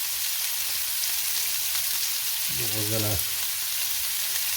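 Onions frying on a griddle for a cheeseburger sub, a steady close hiss and crackle of sizzling throughout, with a brief low tonal hum or clatter near the middle.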